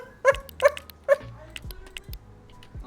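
A dog gives three sharp yips close by, followed by softer whimpers and snuffles, with no talk over it.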